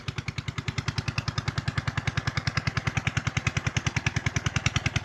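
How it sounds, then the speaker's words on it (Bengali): A shallow tube-well pump engine irrigates a maize field, its rapid, even thumping pulses running steadily and loud throughout, with no voices. "ভুট্টার জমিতে সেচ দেওয়া হচ্ছে। পরিচিত শব্দ, শ্যালো মেশিনের আওয়াজ।"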